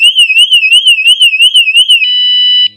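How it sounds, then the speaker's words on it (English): The anti-theft alarm of a Viribus Trio Plus electric tricycle sounds loud and close, a rapid warbling siren of repeated rising and falling pulses that ends in a steady tone, then cuts off. "So if somebody tries to steal your bike and it detects movement, it gives you a warning"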